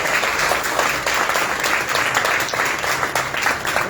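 Loud, sustained applause from a crowd at a pigeon-keeping shop opening event in Faisalabad, dense clapping close by that continues without a break.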